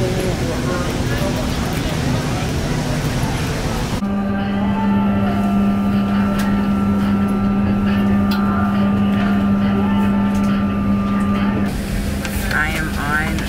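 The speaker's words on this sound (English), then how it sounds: "We're in the airplane." An airplane cabin after boarding carries a steady engine and ventilation drone with a strong low hum and tonal whine, loud and continuous, while voices talk faintly nearby.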